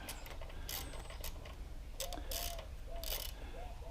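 A ratchet tightens a 5 mm bolt on the rear brake of a Can-Am Spyder RT, giving close bursts of rapid metallic clicking separated by brief pauses.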